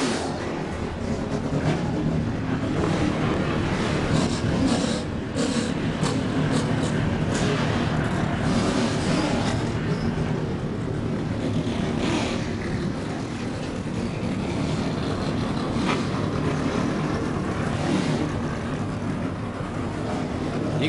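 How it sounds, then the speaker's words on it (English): Forty ARCA Racing Series stock car engines idle and rumble together at the start of the 2016 Lucas Oil 200, a steady, loud, dense drone that holds for the whole stretch with no talk over it. "40 ARCA Racing Series engines have come to life"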